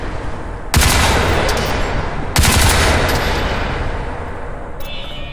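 Rapid automatic gunfire from Crysis 3 rattles loudly in two long sustained bursts, each starting with a sharp crack and trailing into dense continuous fire.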